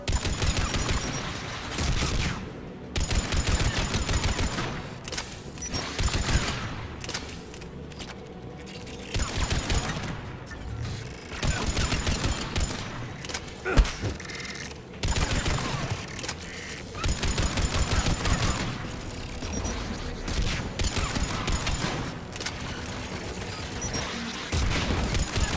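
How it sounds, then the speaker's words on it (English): Anti-aircraft guns firing in Mass Effect 3, sustained bursts of rapid heavy gunfire with short pauses between volleys, loud and close, with mechanical clatter and an occasional boom. "The anti-aircraft guns."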